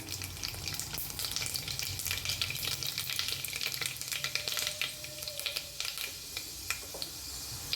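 Fenugreek and mustard seeds sizzle in hot coconut oil, a dense crackling hiss with rapid popping seeds, close and steady, with a brief scrape of stirring.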